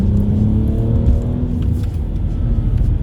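A tuned BMW accelerating in S mode, either a 335i E92 Stage 2+ or an M135i F20, gives a loud steady rumbling engine drone heard from inside the cabin, with faint clicks over it.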